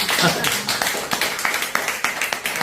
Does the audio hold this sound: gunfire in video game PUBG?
no